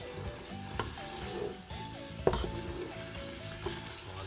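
Shrimp with heads on dropped into a pan of chop suey, sizzling and frying steadily while being stirred, with occasional scrapes and clinks of the utensil against the pan; no speech.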